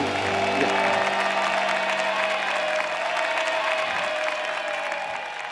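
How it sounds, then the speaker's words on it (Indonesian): An audience at a televised talent show claps continuously for a performer, the applause steady and fairly close, thinning slightly toward the end. "Tepuk tangan lagi dong sekali lagi buat Bangkotan."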